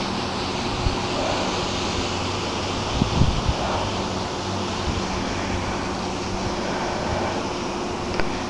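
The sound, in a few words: wind blowing outdoors on a breezy day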